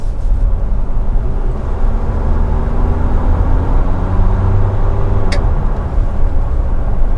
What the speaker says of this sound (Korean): 자 조용하고 한번 들어보실게요 가속